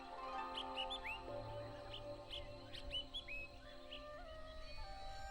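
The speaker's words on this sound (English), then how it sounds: "and the birds chirping in the distance" Birds chirp and whistle from a distance on a mountain at sunrise, with repeated short calls scattered across the stretch over a steady, quiet ambient hum.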